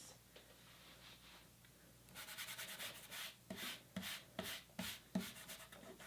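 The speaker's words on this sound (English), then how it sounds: "I'm just taking my finger and I'm rubbing in circles, and this is going to really bring out the shine of the glitter" A fingertip rubs glitter in small circles across a stained glass mandala ornament. It starts as a faint, steady scratchy whisper, then turns louder and more textured with rhythmic rubbing strokes about twice a second, close up.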